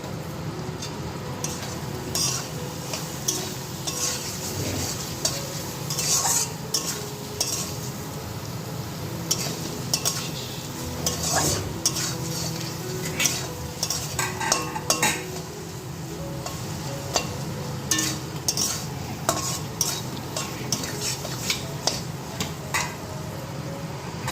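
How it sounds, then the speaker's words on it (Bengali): Ginger, cumin and green chili stir-fried in a pan with fried onion, a steady sizzle broken by frequent scrapes and clinks of a spoon against the metal, close and with no voices. "দেখো বন্ধুরা মশলা কষা চলছে আদা জিরে কাঁচা লঙ্কা"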